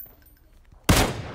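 A single sharp gunshot cracks out loud and close in PUBG Mobile after a stretch of near-quiet, its broadband burst ringing on through the end.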